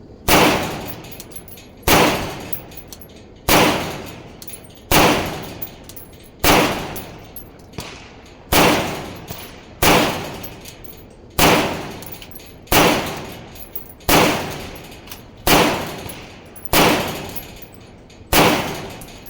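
An IWI Zion 25 rifle in .308 fires about a dozen loud, sharp shots at a steady pace of roughly one every one and a half seconds, each crack decaying quickly.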